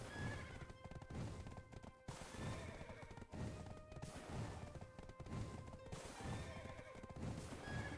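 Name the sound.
horse neighing and galloping in the video game Black Desert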